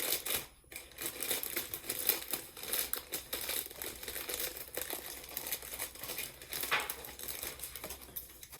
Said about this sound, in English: so now you just want to like cut open your cake mix